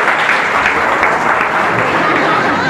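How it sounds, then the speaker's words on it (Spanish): An audience at a live show in Mexico City gives loud, dense, continuous applause that stays even from start to finish, close and full. "Fuerte aplauso a la gente que participó"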